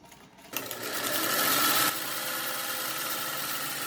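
A sewing machine runs stitches across a practice fabric sheet with back tacks, a steady fast whirring hum that starts abruptly, surges briefly, then settles into an even drone.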